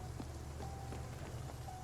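Steady rain pattering in the video game Spiritfarer, a soft continuous hiss with scattered droplet taps, fairly quiet and unbroken throughout with no talking.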